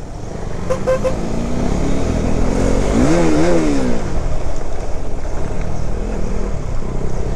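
A vehicle engine revs up twice on a forest road near Kodaikanal, loud and close over continuous road and wind noise, with a brief horn-like toot early on and no talking.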